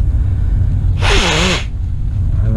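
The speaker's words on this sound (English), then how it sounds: "I start sneezing." A person sneezes once, close and loud, a sharp burst standing out over a steady low background hum, with no talk during it.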